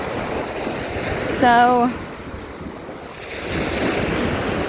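Ocean waves surge and wash continuously on a windy shore, a broad steady roar that swells again near the end, with brief speech and a short rising whistle-like tone over it.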